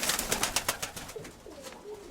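Pigeons squabbling in a breeding loft, a quick series of sharp fluttering wingbeats and scuffles followed by low coos, close and fairly quiet, with no talk.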